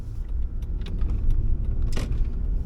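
A car driving, heard from inside as a steady low rumble of engine and road, with small clicks and a light jangle on top.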